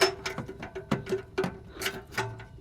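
Wrench fitted on the downstream O2 sensor of a 2007 Hyundai Sonata with a 2.4 L four-cylinder engine, giving a close series of light metallic clicks and ratcheting ticks, irregular and fairly faint.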